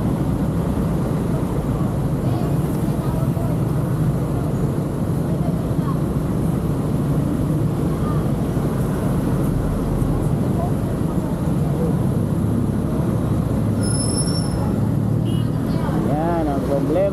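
Steady road traffic drones throughout a motorcycle ride, a continuous low rumble of engines and passing vehicles with no clear breaks, while faint voices sit beneath it.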